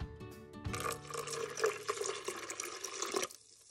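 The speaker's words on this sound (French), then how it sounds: "Et pour finir, j'ajoute 200 ml d'eau chaude." Hot water poured into red lentil soup in a Cookeo multicooker, a continuous splashing liquid pour lasting a few seconds before stopping abruptly, close and moderately loud.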